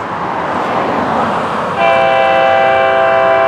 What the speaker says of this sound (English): The Monday train, red, yellow, blue up on that head end.